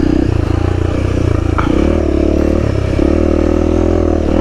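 A Honda CRF300L dirt bike engine drones loud and close during hard offroad riding, holding a steady throttle with brief rises and rattling clatter, and no voices over it.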